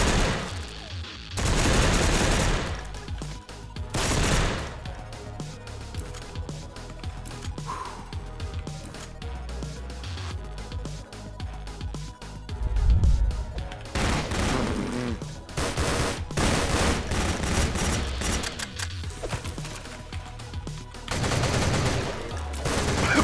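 Pistol fire in the video game Madness Interactive Reloaded comes as repeated sharp shots in loud bursts, separated by brief lulls, over continuous game noise.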